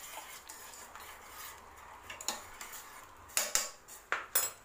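A spoon stirring jaggery or honey into turmeric kadha in a pot, with soft scraping and a few sharp metallic clinks against the vessel, quiet and close, no talk.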